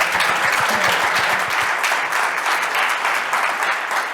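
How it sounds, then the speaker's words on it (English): An audience at an incident response talk gives a round of applause, a dense, steady wash of many hands clapping at even loudness throughout, with no voices over it. "let's give one more round of applause"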